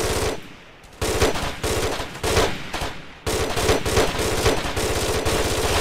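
Machine gun fire from Ghost Recon: Desert Siege rattles out in loud, rapid bursts, with a short pause between strings of rounds.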